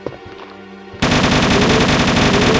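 Continuous rapid automatic fire from a Mini-Me light machine gun in the PC version of Resident Evil, starting abruptly after a quieter moment and staying loud and dense to the end.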